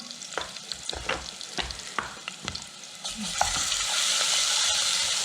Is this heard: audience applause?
no